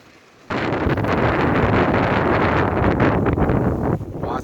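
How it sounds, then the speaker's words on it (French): Strong storm wind buffets the microphone beside the Loire river during carp fishing, a loud roaring gust that starts abruptly and keeps blowing for several seconds before easing slightly. "C'est la tempête."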